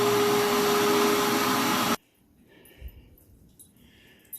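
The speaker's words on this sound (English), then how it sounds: "I'm going to go ahead and turn off the vacuum, suck all this crap up," A vacuum cleaner runs loudly with a steady roar while cleaning the trunk of a 1972 Porsche 914, then cuts off abruptly after two seconds, leaving quiet room sounds and faint clatter.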